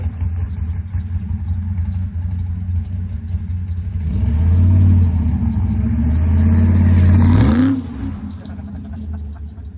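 A Pontiac G8 with an LS 408 V8 idles with a deep lumpy burble, then revs up into a loud sustained roar for a few seconds before dropping sharply back to idle, close by.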